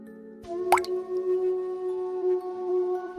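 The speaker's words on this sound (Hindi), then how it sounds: "ठंडे पानी से बर्तन धोने लगता है" Dishes being washed with cold water: one sharp drip or plop of water stands out near the start, over a steady tonal hum that runs throughout, with no talking.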